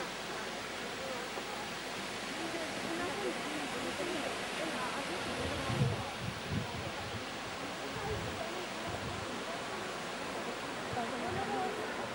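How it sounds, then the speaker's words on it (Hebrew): The Galway river in Ireland flows past in a steady broadband rush, a continuous mid-distance roar, with a voice speaking briefly over it. "נהר הגולווי, משה."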